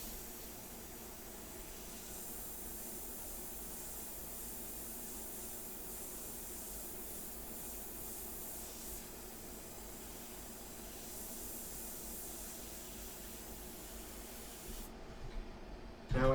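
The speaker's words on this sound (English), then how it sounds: "Yeah, that's a nice airbrush." An airbrush with a rebuilt kit, high roller trigger and back handle sprays India ink in a steady, continuous hiss that holds evenly close by for the whole stretch, with no talking over it.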